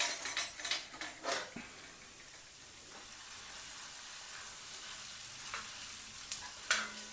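Chopped ginger and garlic sauté quietly in a pan for a Kerala-style beef curry, a faint sizzle under a few light clinks and scrapes of a spoon at the start and near the end.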